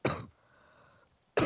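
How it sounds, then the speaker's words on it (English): A person's short cough or throat clear, close and loud, sounding once at the start and again at the end with a quiet gap between, no speech. "That's why I'm coughing."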